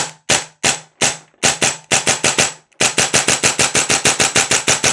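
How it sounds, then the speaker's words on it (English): A Vorsk VMP-2 gas blowback airsoft rifle fires sharp, snappy reports, first in spaced single shots and then in a faster, evenly paced string, loud and close with no talk. "So we're going to go semi-auto first, and then we'll run through it and we'll see how the VMP-2 does"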